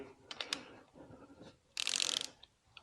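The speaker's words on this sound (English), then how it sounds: "I've set the torque wrench at 60 foot-pound, as it says in the manual" Torque wrench set to 60 foot-pounds clicking as it tightens a pair of bolts, a few close sharp ratchet ticks followed by a dense burst of rapid clicking, then faint single clicks.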